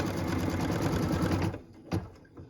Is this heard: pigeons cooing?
no